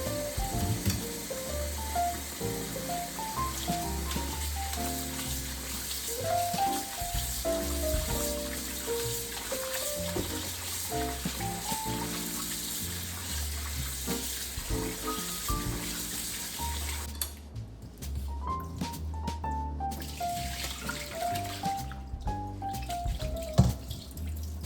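Handmade ramen noodles are rinsed in fresh water, with a running-water and splashing wash beneath steady background music, close and continuous throughout.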